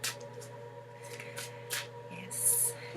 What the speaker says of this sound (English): Give myself a moment to shuffle up my cards here.